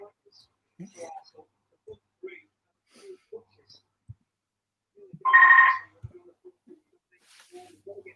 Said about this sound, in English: It's that phone again.